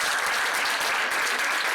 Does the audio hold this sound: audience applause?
yes